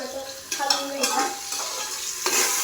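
Onion frying in hot oil with cumin and mustard seeds, stirred in the pan: a close, steady sizzle broken by repeated scraping strokes of the spoon against the vessel.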